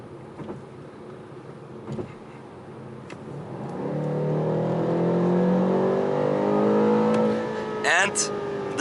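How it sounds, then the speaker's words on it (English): A 2020 BMW M8 Competition with its 625 hp engine accelerates hard, its rising engine note climbing steadily and loudly through the gears, with a brief snap of a shift near the end. "And the acceleration doesn't stop. It pulls, it wants to go, it keeps going."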